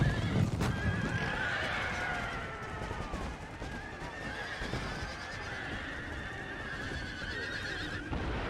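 Lancer cavalry charging in Empire: Total War: horses neigh and whinny repeatedly over steady, dense hoof clatter, with a faint honking call in the mix.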